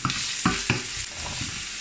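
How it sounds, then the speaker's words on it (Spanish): Onion goes into the same oil where beef was browned and fries with a loud, close crackling sizzle, with a couple of brief stirring knocks and no voices. "Y en el mismo aceite vamos a echar la cebolla"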